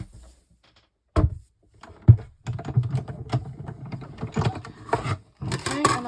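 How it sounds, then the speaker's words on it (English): A die cutting machine used for papercraft, with mechanical clunks and a whirring, clattering run of rollers heard up close after a quiet start. "so let's get our die cutting machine"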